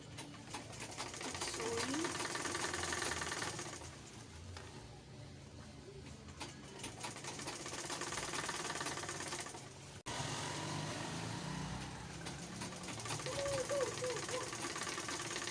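Sewing machine stitching a wrapper gown, a steady mechanical whir and knock running through most of the stretch with a brief pause midway, sitting under a speaking voice.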